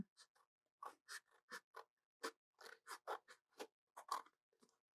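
Scissors snip through the top of a sheet of paper in a quiet room, a close, faint run of short crisp cuts in uneven bursts.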